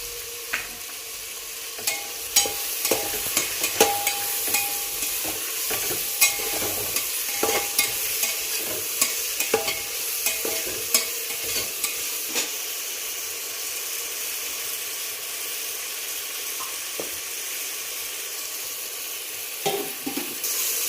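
Vegetables sautéing in ghee for matar pulao: a steady frying sizzle runs throughout with frequent spatula scrapes and taps against the pan, close and fairly loud, with no talking.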